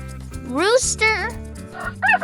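A rooster gives a short crow, rising then falling, over soft background music, followed by a brief fowl-like call at the end.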